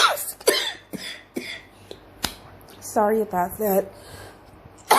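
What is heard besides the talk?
coughing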